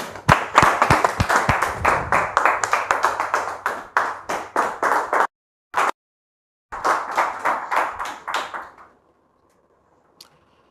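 Studio audience clapping in welcome on a television talk set, a loud rhythmic burst of hand claps that breaks off, gives one short clap, then resumes in a second burst before dying away to near silence.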